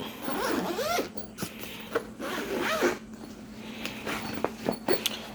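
A zipper on a teleprompter case being pulled open in several short, raspy strokes, close up, with brief pauses and light handling noises between pulls.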